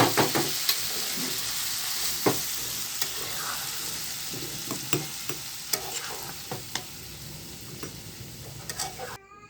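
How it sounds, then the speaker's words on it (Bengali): Pickle sizzles while heating in a kadai, a soft continuous frying hiss punctuated by sharp clicks and scraping stirs of a utensil against the pan, with no speech. "জাস্ট আমি কড়াইতে গরম করে নেওয়ার জন্য আমি এটা দিয়েছি।"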